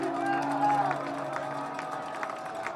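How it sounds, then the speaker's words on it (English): A football stadium crowd at a Wheaton vs Augustana college game roars and cheers for a third down, a loud, continuous swell of many voices with a sustained tonal voice-like line riding over the din. "The crowd now getting loud for 3rd down."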